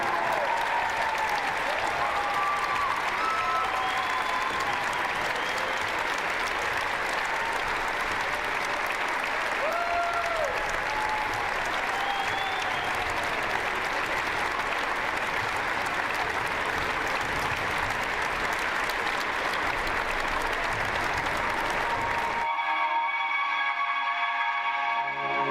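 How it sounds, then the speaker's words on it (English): Sustained arena applause and cheering at a women's college basketball game honoring the 1990 Hope College national championship team, a dense crowd roar with scattered whistles that cuts off abruptly near the end. "a round of applause for your 1990 Hope College Women's Basketball National Championship team"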